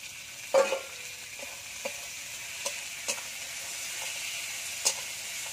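Tomatoes and capsicum fry in a pan with a soft, steady sizzle and hiss, broken by a few light clinks of stirring, heard close and fairly quiet.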